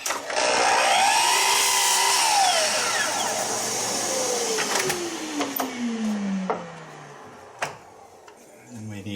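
A power saw cuts through a workpiece held down with a push board and clamp, a loud whining tone sliding downward as the blade spins down, followed by fainter workshop noises.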